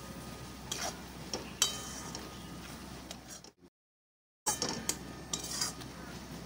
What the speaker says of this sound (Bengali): ধনে গুঁড়ো দিয়ে আবার একটু ভালো করে মিশিয়ে নেব